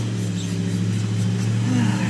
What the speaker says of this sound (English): These cars are so loud.